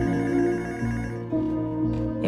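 A telephone rings with a steady, loud electronic trill that continues through the whole stretch, with no voices over it.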